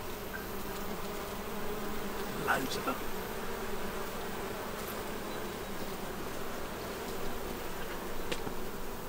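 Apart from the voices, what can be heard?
bees buzzing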